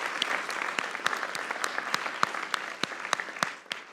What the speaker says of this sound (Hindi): इंडिया के लिए तालियां।